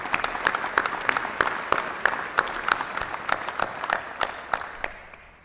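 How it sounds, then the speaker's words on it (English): A crowd at a medical school white coat ceremony applauds a doctor, with continuous clapping carrying individual sharp claps throughout, slowly tapering off toward silence at the close. "he deserves another round of applause from all of us for what he is and represents"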